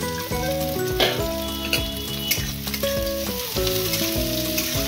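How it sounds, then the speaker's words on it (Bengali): Mustard seeds, green chillies and onions fry in hot oil for a flattened-rice pulao, giving a continuous crackling sizzle under loud background music. "সর্ষেটার মধ্যে কাঁচা লঙ্কা আর পেঁয়াজ গুলো আমি দিয়ে দিচ্ছি।"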